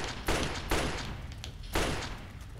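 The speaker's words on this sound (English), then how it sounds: "Fire some shots off at them." Gunshots from the Fallout 3 video game come in three loud, close bursts within a few seconds, each dying off quickly before the next.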